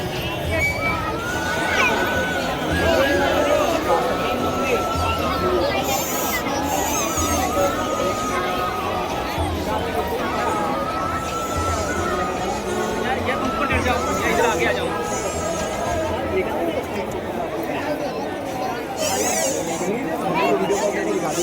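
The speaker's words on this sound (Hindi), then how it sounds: "इतनी भीड़ है, प्रेम मंदिर पहुंच गए 7:45 और भीड़ देखो एक बार।" A large crowd fills the grounds of Prem Mandir temple in Vrindavan in the evening during Radha Ashtami, with dense, steady babble of many voices and chatter close around and no break across the whole stretch.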